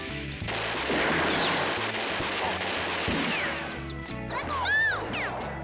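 Gunfire rumbles through a dense, loud battle scene in an indie film, with heavy continuous booming and cracking shots blending into a roar, and voices shouting near the end.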